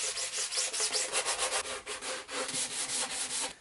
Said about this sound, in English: this is going to sand real quick.